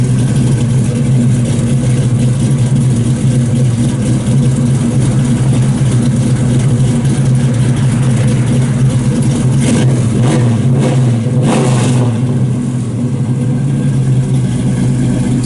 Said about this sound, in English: It's just a tough sounding car.